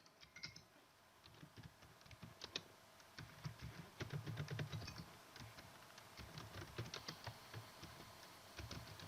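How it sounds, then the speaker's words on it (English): Text is typed on a computer keyboard in quick, irregular keystroke clicks. The typing is faint but continuous, with no speech. "Type your text over here."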